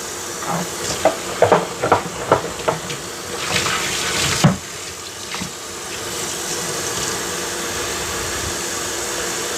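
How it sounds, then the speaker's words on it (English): Water runs and splashes while a Hoover PowerDash Pet carpet cleaner is rinsed in a sink, with a cluster of clattering bursts early on, then a steady even rush of running water. "Just gonna keep rinsing."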